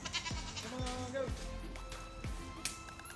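Goats, a mix of adults and babies, bleat repeatedly as they are let into a farm pen. The wavering, overlapping calls come at close range amid background commotion.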